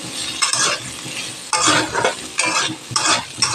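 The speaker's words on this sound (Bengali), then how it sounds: "আলুগুলো আমার ভাজা ভাজা হয়ে গেছে।" Potatoes fried with turmeric and salt in a wok: a continuous close sizzle broken by several louder scraping stirs.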